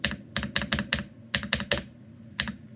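Close, thocky spacebar presses on a Keychron C3 Pro mechanical keyboard in irregular clusters, several quick taps then pauses, fairly quiet with no talking.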